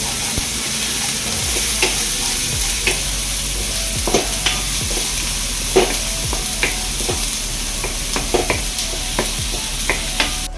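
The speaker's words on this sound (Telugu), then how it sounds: "గరం మసాలా ధనియాల పౌడరు వేసుకొని బాగా కలిపండి" Leftover white rice being made into egg fried rice sizzles in a pan as garam masala and coriander powder are stirred through it, with repeated scraping strokes of the spoon over a constant frying hiss.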